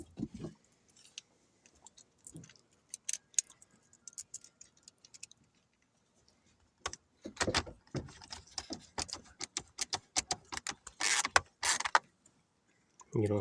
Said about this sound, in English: And then we're just going to put our 3 screws back in.